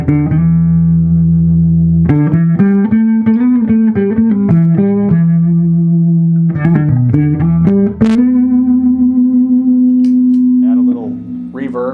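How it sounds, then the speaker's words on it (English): Electric guitar through a Magnatone amp with its pitch-shifting vibrato, chords and single lines ringing continuously and fairly loud, ending on a long sustained chord. "that's how we get the pitch shifting vibrato that this has."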